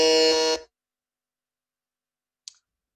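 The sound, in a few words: quiz buzzer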